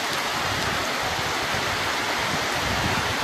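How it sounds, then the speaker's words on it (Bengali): Heavy rain lashes down during a cyclone as a loud, dense, unbroken roar of falling water close by, with a rumbling gusty low end and no talking. "প্রচুর পরিমাণে বৃষ্টি দিচ্ছে।"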